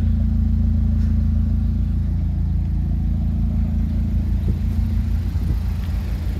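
Rebuilt Opel A20NFT engine with a catless downpipe idling without load: a loud, close, steady low rumble with an even, unbroken pulse and no misfire, alone without any voices.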